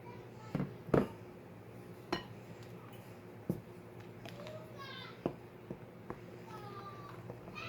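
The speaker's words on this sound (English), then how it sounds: "add the 2 cups of flour and mix that in really well" A spoon mixes two cups of flour into friendship bread batter in a bowl, giving faint scattered clinks and taps against the dish in a quiet kitchen, with soft voices and a cat meowing in the background.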